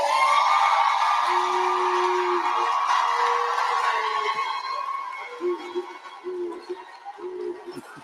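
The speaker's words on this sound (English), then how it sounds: "Can we stand up and give them a round of applause?" Graduation ceremony audience responding to a call for applause for the graduates, with a broad wash of crowd noise and cheering that holds steady, then thins into scattered sounds and voices toward the end.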